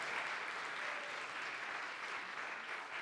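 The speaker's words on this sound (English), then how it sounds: "We have a round of applause for that gentleman." Steady, dense applause from a conference audience at an annual church meeting keynote, a continuous wash of many hands clapping at even volume throughout with no talk.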